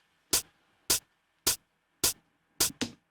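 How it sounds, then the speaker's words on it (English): A ZX Spectrum home computer used as a drum machine plays a synthesized hi-hat: five crisp, noisy ticks at an even pace, then a quick doubled hit at the end, with silence between. "Yeah, it's a hi-hat."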